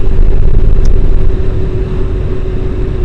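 Triumph Daytona T595 sport motorcycle being ridden with a passenger, its engine a steady loud low rumble with wind roar throughout, no talk.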